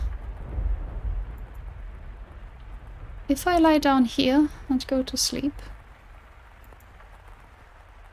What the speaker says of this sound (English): Such a cold rain.